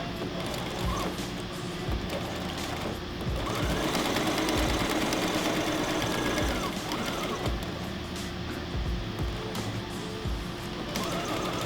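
A sewing machine stitches an eighth-inch seam on a fabric face mask, running in a continuous close mechanical whir with rapid needle chatter that swells slightly midway.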